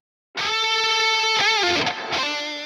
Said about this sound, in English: let's add a reverb in the form of this D reverb